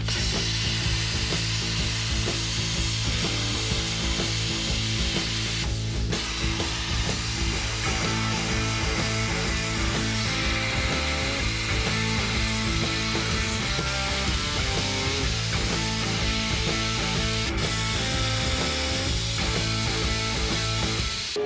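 A power tool cutting brackets off a Dana 60 axle grinds and rasps without a break, loud and close, with no talk.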